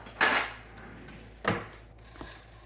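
A spatula knocks and scrapes against a pan with melting chocolate chips and butter, two sharp clinks followed by a fainter tap, close and isolated with no talk.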